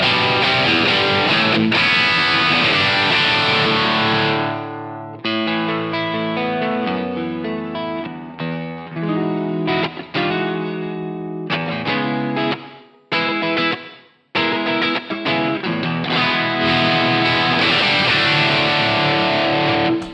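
Fender Aerodyne Special Telecaster played through the Overloud TH-U plugin on the Jimmy Crunch preset, with crunchy overdriven chords and riffs ringing out in bursts with short stops, loud and full with a touch of reverb.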